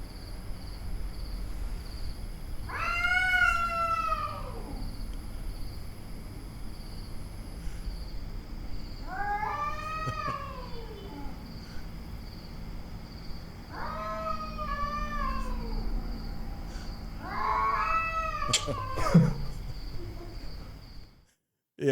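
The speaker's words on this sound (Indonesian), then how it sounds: "Malam-malam kucing tiba-tiba bunyi." A cat meowing and caterwauling at night lets out four drawn-out, wavering yowls spaced several seconds apart over a quiet background with faint steady hum.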